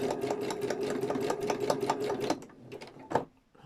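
A sewing machine stitches through fabric for gardening journal covers, a rapid close mechanical chatter of evenly spaced needle strokes that stops partway, followed by a few isolated clicks and a thump.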